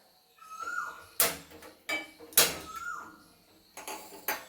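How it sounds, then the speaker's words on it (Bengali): Cooking pot set down on a lit gas stove, producing several sharp metallic clanks and scrapes spaced irregularly, close and fairly loud over a quiet background. "জ্বালিয়ে এই পাত্রটা বসিয়ে দিলাম।"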